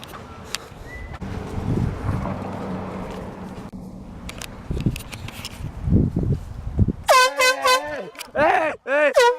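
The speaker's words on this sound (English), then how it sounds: "when I find them, I'm basically just gonna air horn at their face" Air horn fired repeatedly during a prank, several loud, close blasts in quick succession toward the end, after quieter stretches of footsteps and rustling with voices talking.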